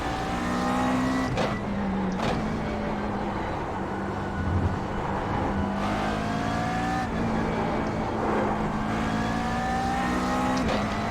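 A GT3 race car engine in the iRacing video game screams continuously, its pitch climbing and then dropping sharply several times as gears shift up, loud and close throughout.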